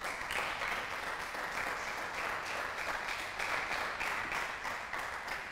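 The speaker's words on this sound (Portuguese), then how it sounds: "Dá um aplauso ao Senhor aí, em nome de Jesus." A church congregation claps together during a Portuguese-language sermon, a fairly faint but continuous, even patter of many hands with a gentle pulsing rhythm.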